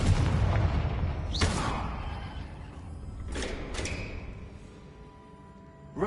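Confringo spells explode in Hogwarts Legacy, a couple of sharp booming bursts that decay into rumbling tails over a low game background.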